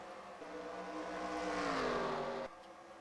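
Race cars lapping Phoenix track in a sim racing video game, a rising engine whine as a car accelerates past, cutting off abruptly near the end over a steady background drone.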